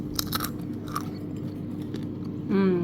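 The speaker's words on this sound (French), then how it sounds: "Regardez mes petites amandes. Elles sont bien salées. Et elles sont super croustillantes." Crunchy salted air-fried almonds being chewed up close, with several sharp crunches early on followed by softer chewing, and a brief voice at the end.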